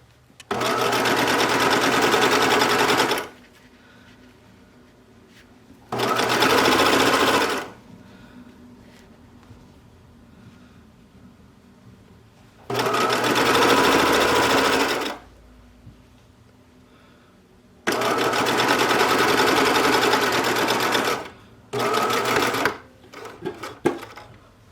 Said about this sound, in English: And then I'm just going to sew it down right in that crease line.